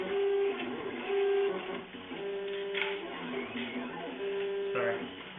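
A Prusa i3 MK2 clone 3D printer runs with its printhead working, giving a steady motor whine broken by repeated stepper tones that rise and fall in short bursts, close by.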